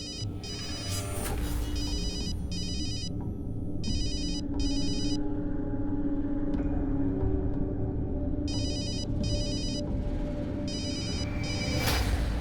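A telephone rings repeatedly in bursts of trilling bells over a steady background rumble, with pauses between the ring groups.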